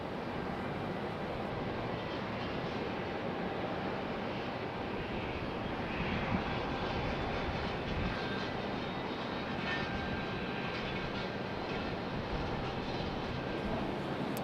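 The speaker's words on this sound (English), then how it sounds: "next up is Alaska, our next arrival, arriving on that MAX 9 from Seattle" An Alaska Boeing 737 MAX 9 arriving from Seattle at Raleigh-Durham airport, its jet engines a broad steady roar that swells slightly mid-pass, heard from a distance without talk.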